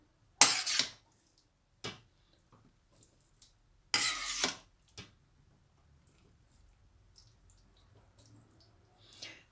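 Chickpea and minced mutton keema being served from a pot into a dish: a few sharp metal spoon-on-pot clinks and scrapes, close and spaced apart, with quiet pauses between.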